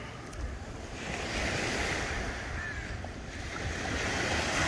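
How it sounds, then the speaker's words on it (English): Ocean waves washing onto Secret Beach in Gibsons near Vancouver, a continuous loud rush of surf swelling and easing, mixed with wind buffeting the microphone and no voices. "Nice blue ocean."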